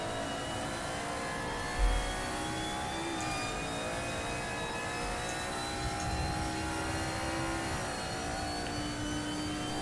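A race car accelerates hard out of the final corner at Lakeside in a touring car racing game, its engine a loud, steady, high whining roar that rises in pitch through the gears, with a brief thump early on.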